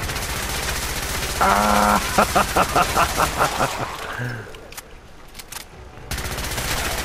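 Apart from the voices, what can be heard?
rapid rifle gunfire in Fallout 4 video game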